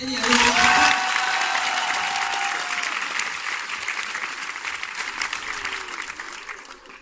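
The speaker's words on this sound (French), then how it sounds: "On peut l'applaudir." Audience clapping at a film premiere event, loud at first then gradually thinning out, with some crowd noise and faint tonal sounds mixed in.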